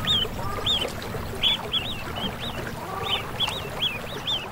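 Ruddy shelducks on a small pond in the Hexigten grasslands sound repeated honking, nasal alarm calls in quick bursts, fairly close and clear over a low background.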